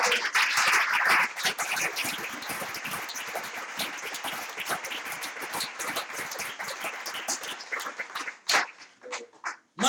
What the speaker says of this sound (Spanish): ¿Puedo aplaudir al Señor por eso?